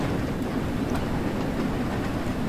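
A steam train in the Train Sim World 2 Spirit of Steam expansion rumbles along the rails with a steady, dense roar and a faint clickety-clack, loud and continuous with no talking.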